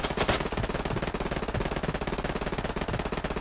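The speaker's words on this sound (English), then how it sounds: "there's a lot of shots coming at us" Dense, rapid automatic gunfire from the World War II shooter game Hell Let Loose, a nonstop rattling stream of shots with a sharp burst near the start, heard alone.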